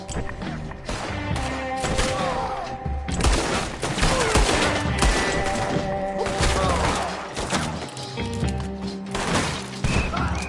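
Repeated gunfire bursts and thuds ring out in Red Dead Redemption 2, with rapid shots and impacts over a dense musical score, loud and continuous throughout.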